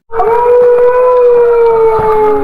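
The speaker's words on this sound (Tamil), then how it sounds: "நரி ஊ ஊ என ஊளையிடும்." A fox gives a long, sustained howl, a steady tonal wail that holds for over two seconds and bends slightly downward near the end, loud and close with no talk.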